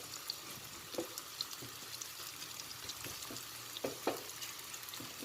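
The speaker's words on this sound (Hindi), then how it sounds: "अब इन प्याज़ों का लाइट गोल्डन ब्राउन कलर होने तक इसे घी में फ्राई कर लेना है।" Onions frying in ghee crackle and sizzle softly in a pan, with scattered pops and an occasional stir-like clatter, close and fairly quiet throughout.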